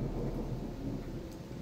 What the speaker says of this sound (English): Look how they managed to do a rain in this game.